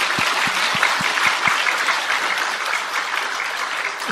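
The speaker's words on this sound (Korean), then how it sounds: "생일을 맞이해서 우리 하나님 앞에 축하 박수 한번 하겠습니다" A church congregation breaks into celebratory applause at a Sunday third service, dense steady clapping filling the room, with a few sharp low thumps near the start, sustained evenly throughout without speech.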